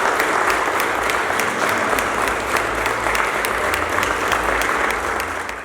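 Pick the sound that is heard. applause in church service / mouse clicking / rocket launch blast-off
applause in church service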